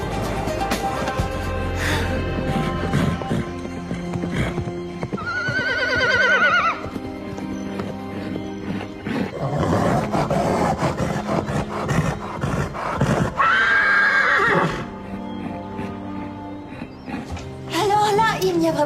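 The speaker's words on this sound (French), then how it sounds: "on voit bien que ce cheval est cinglé" A spirited horse at a riding stable neighs loudly twice in long shaking whinnies, with hoof clip-clop and a busy background soundtrack throughout.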